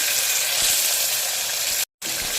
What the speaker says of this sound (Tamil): பச்சை மிளகா ஒரு 4 நல்லா வதங்கி வரட்டும்.